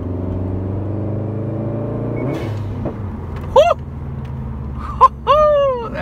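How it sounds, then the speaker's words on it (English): A 2016 Subaru WRX STI fitted with a GoFastBits blow off valve rumbles steadily up close, then lets out a few sharp pops and rising whistling bursts near the end. "That backfire"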